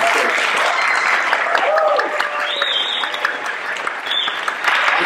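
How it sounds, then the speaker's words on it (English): Audience at a trumpet masterclass applauds with steady, fairly loud clapping from a roomful of people, and a few voices and whistles can be heard over it. "Your applause doesn't feel sincere."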